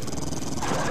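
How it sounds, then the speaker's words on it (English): Dog growling in the video game 7 Days To Die, a low, rough, continuous snarl lasting about a second, close and loud. "I hear a doggy."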